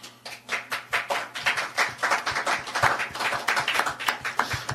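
An audience at an international forum on Indo-Pacific alliances claps together, building from scattered hand claps into a steady, fairly close round of applause that continues to the end.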